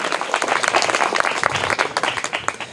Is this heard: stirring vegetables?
no